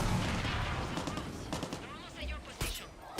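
Bursts of gunfire rake a vehicle in Far Cry 6, a quick rattle of shots with sharper cracks near the end, mixed under casual talk.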